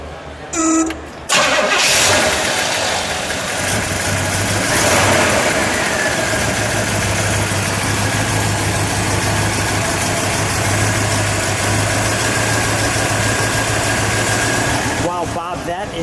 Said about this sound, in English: Let's start it up. I'll get behind you. We'll let it idle. We'll give it one rev.